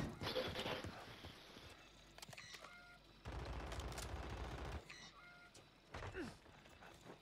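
Bursts of gunfire in the online shooter Warzone, cracking in clustered volleys against a busy game backdrop with hoof-like clatter, fairly quiet overall.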